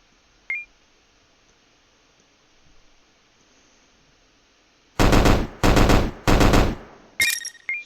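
Rifle gunfire in a video game's balance testing: three loud sustained automatic bursts in quick succession with short gaps, then a shorter fourth burst, after a mostly quiet lead-in with one brief sharp blip near the start.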